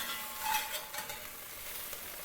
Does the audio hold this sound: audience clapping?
no